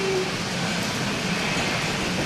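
A passing train gives off a continuous broadband roar and rush of wagons, steady and loud throughout with no voices over it.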